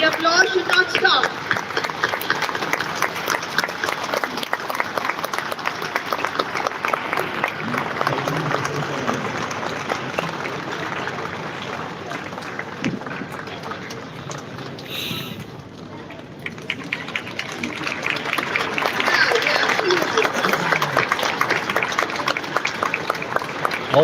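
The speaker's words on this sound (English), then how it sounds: "Let's give her a big hand." Audience applause for a new school principal being welcomed on stage at a live school event, dense and sustained clapping with crowd noise throughout, dipping briefly in the middle before swelling again.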